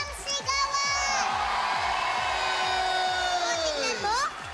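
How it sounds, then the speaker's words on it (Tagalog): A television variety show studio audience in the Philippines cheers, whoops and shouts loudly and continuously, with a rising crowd roar and high voices that fade near the end. "Palakpakan may kasama sigawan."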